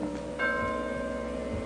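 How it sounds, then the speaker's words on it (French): A church bell rings once, its bright tone holding and slowly fading over a steady low background. "il y a une cloche. À chaque fois qu'elle sonne, c'est une condamnation."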